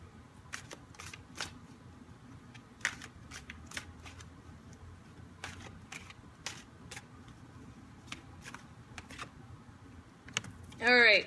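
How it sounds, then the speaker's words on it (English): Tarot cards that are a bit sticky are shuffled by hand, giving soft, irregular riffling flicks and snaps at close range, faint and scattered over a quiet room. "I'm gonna go ahead and shuffle these real quick."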